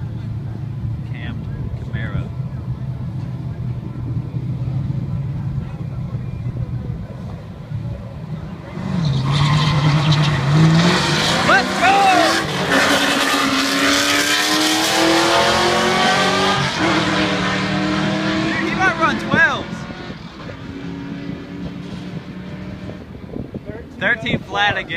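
A bolt-on Ford Mustang Mach 1 and a cammed Chevrolet Camaro at a drag strip, a lumpy idle giving way to a loud roaring launch with rising engine pitch through gear changes before fading, voices talking over it.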